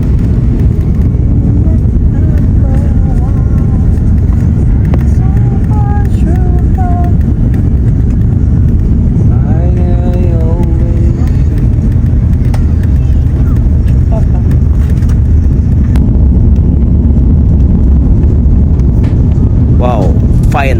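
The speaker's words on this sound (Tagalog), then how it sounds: "Ito po at pababa ang ating sinasakyang eroplano." Inside an airliner cabin on its descent toward Manila, a loud, constant low rumble fills the scene while voices and other faint tonal sounds drift over it.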